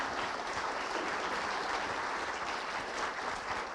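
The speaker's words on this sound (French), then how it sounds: "Je vous propose de les applaudir" An audience at an agile transformation conference session applauds the presenters, a dense, even roar of many hands clapping that holds steady from start to finish without any speech.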